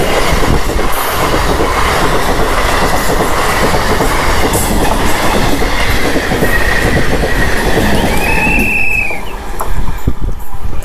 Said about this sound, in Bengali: এই যে ট্রেন চলে আসছে অলরেডি